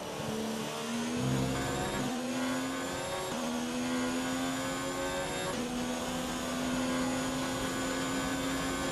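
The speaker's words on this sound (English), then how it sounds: "damaged car noise anytime I get up to speed" Damaged Formula 1 car engine in F1 2019 at Monza, a continuous strained whine with shifting harmonic tones that rise and step through gears, loud and steady with no talk.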